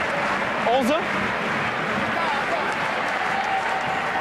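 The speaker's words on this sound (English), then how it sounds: "The crowd trying to make themselves heard, get themselves in the mix." A rugby crowd at Stade Amédée-Domenech in Brive cheers and claps in a steady roar, with a few whistles and calls rising out of it while a commentator talks over the noise.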